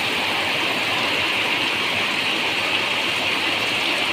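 Heavy monsoon rain pours over standing maize fields in the Dhanpur taluka countryside, a dense, constant roar of falling water that holds steady and unbroken throughout.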